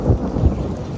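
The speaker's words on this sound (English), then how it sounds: "The rain just started" Rain falls steadily in a dense low rumble, with a couple of deeper thumps that resemble distant thunder, continuous and moderately loud with no speech.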